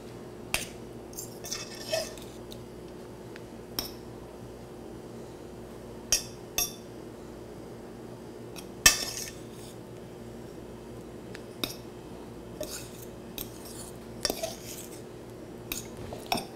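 Utensils clink and tap against a dish while Parmesan cheese is mixed into pasta, scattered sharp metallic ticks spaced a second or two apart over a quiet room hum.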